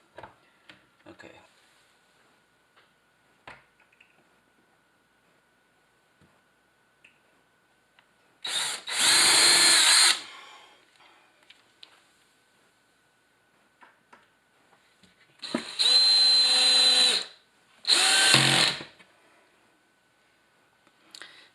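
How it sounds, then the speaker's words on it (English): Three short bursts of a power drill whirring as it drills a hole for a cabinet door hinge, one then two close together, separated by quiet pauses with light handling clicks. "until I can get the drill to drill a hole through for that one"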